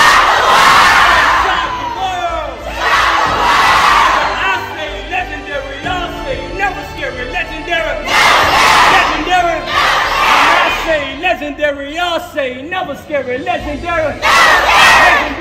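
A large crowd at a motivational speech roars and shouts in loud bursts, with rhythmic group chanting of "shock the world" and cheering swelling and fading in waves.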